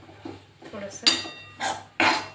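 Spices roasting with peanuts, garlic and green chilli in a pan for drumstick curry, stirred with a metal spoon: soft scraping followed by three sharper clinking scrapes against the pan, close up.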